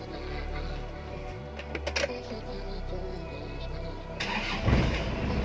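A Ford Mustang engine in the video game Car Parking Multiplayer cranks and catches, then settles into a steady low rumble with a brief rev near the end.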